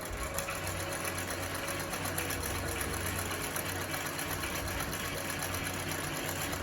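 A Singer 20U industrial sewing machine running for embroidery, a steady close mechanical hum and rapid needle chatter at an even pace throughout, with no talk.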